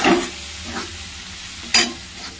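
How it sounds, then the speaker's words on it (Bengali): Spice masala for a potato, pea and paneer curry sautéing in a pan, with a soft steady sizzle and a few distinct stirring scrapes, close by and without talk. "এটাতে ভালো করে কষবো, তারপরে জল দেবো।"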